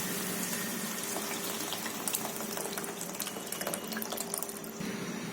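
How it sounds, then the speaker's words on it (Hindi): Cooked dal poured into a tomato tadka for hotel-style dal fry, a steady wet pouring and splashing noise with small drips, close and fairly loud, with no talking. "अब डालेंगे हम इसमें दाल।"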